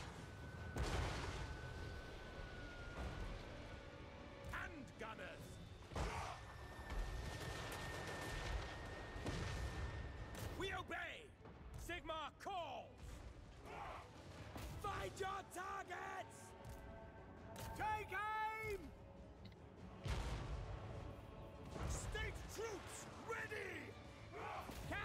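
Cannon blasts and gunfire in a war strategy game, Ostland campaign, boom and crack in repeated bursts, loud and near, with shouted voices and talk mixed between the shots.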